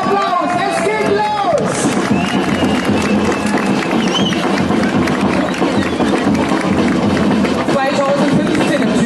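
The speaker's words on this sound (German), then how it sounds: "Applaus, Applaus, es geht los!" Crowd at the start of the Hussite Cherry Festival parade in Naumburg claps and cheers loudly and continuously, with babble and voices mixed into the dense, close applause.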